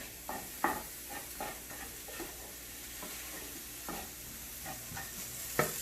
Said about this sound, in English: Stir all of this together.